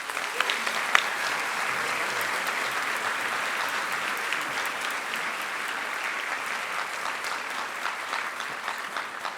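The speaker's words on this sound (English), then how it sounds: "Please give them a round of applause." Sustained applause from a school anniversary audience at a diamond jubilee celebration, a steady dense wash of many hands clapping at even volume throughout, with no voices breaking through.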